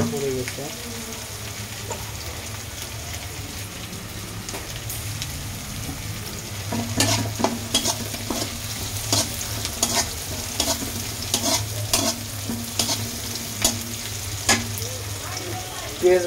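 Sliced onions fry lightly in a pan, holding a soft, steady sizzle at first before stirring starts and adds repeated sharp scraping and clinking strokes over the continuous frying hiss.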